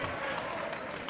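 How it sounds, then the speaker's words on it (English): Basketball fans in a high school gym applauding, a short burst of dense, steady clapping from a crowd in the stands. "They're all clapping."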